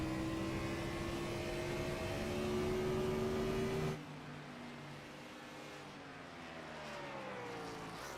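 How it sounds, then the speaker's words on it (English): Race car engine on an oval track, a loud sustained drone whose pitch drops sharply mid-clip as the driver downshifts, then rises again through the turns. "still downshifting that car. You can hear it as it goes through these turns."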